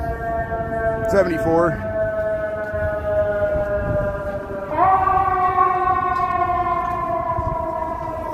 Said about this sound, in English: Here comes the ambulance here.